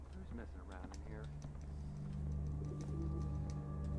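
Pigeons coo in a video game, soft repeated warbling calls heard near the start over a steady low engine-like hum, with a voice talking over it.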